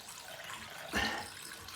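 Water poured into a drain trap in a long-abandoned house in the Arctic, a brief gurgling splash rising over steady background hiss, with no talk.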